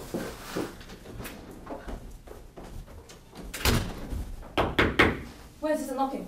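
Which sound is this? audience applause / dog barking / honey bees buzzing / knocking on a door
knocking on a door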